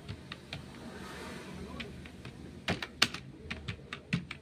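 A name is typed on a computer keyboard: quiet, irregular key clicks with a few sharper taps in a brief cluster near the end, over a soft room hiss.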